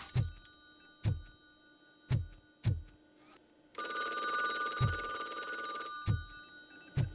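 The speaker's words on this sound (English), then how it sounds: "Phone call." Telephone ringing in the RoboCop: Rogue City video game: an electronic bell ring repeating on a loose rhythm, with sharp low thumps between rings and one longer, bright sustained trill in the middle.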